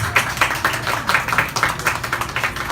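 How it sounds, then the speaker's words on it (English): An audience claps at a Caritas Manila celebrity bazaar event at an SM Supermalls venue, producing steady, rhythmic bursts of claps at a brisk, even pace, close and fairly loud. "A big round of applause to SM Supermalls."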